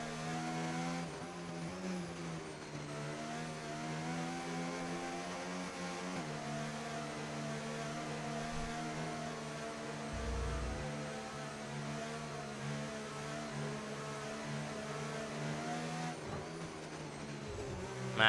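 Formula 1 race cars in a video game, a sustained steady engine whine with shifting harmonics as the cars weave to warm their tyres, continuous and fairly loud throughout, with no talk.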